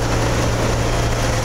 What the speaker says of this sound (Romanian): Mașinile lucrează în stradă